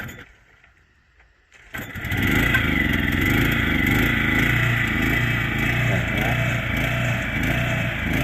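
An old Japanese asphalt sprayer engine fires up after a quiet moment and then runs steadily on test, a loud, close, continuous mechanical drone with a rattling buzz.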